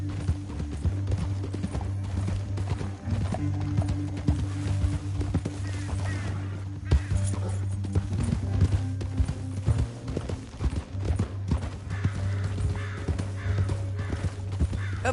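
Horse hooves clip-clop steadily over a low droning background, with occasional bird caws and a faint whinny, in the video game Red Dead Redemption 2.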